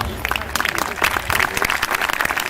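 A crowd at an outdoor animal blessing event with horse riding claps in brisk applause, dense and fairly close, with voices mixed in.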